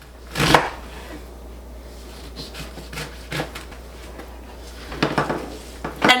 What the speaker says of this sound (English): And chop this up.